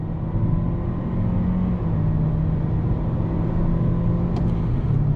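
Toyota C-HR small SUV with a CVT pulling away from a rolling launch, a steady droning engine hum that holds a near-constant pitch throughout, loud and close from inside the cabin, with no talking.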